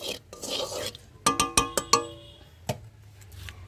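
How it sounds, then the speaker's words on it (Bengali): Salt and turmeric stirred through hot oil in a pan, a run of sharp metal scrapes and clinks from a spoon near the middle, set against a faint background hiss. "দেখো তেলের মধ্যে আমি একটু লবণ দিয়ে দিলাম, এবার একটু হলুদ দিয়ে দিলাম, একটু নাড়াচাড়া করে নিলাম।"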